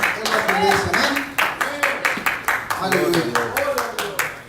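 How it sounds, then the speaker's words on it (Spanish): Church congregation applauding during a worship service, a dense wash of many hands clapping with rhythmic pulses, a voice talking over it throughout. "Denle un aplauso al que vive y reina para siempre."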